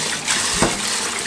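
Pork back ribs rinsed under a running kitchen tap, a steady close hiss of flowing water with a brief splashing swell in the middle.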